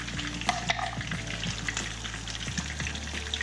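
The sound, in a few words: crappie fish frying in a pan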